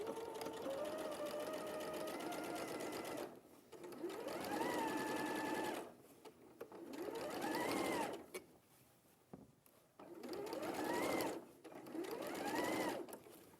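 A domestic sewing machine stitches a seam in close-up, whirring up to speed and slowing again in several separate bursts with brief quiet gaps between them.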